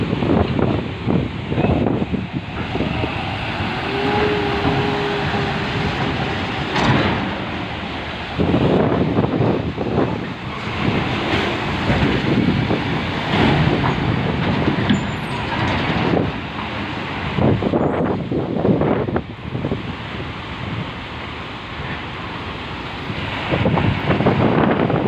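Strong wind roars across the microphone over heavy waves at sea during cargo unloading from a boat, a loud and continuous rush with gusting surges and brief voices breaking through.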